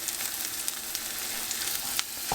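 Ginger garlic chili paste fries with browned onions in a pan, giving a constant dense sizzle with occasional light stirring clicks, close and steady with no talking.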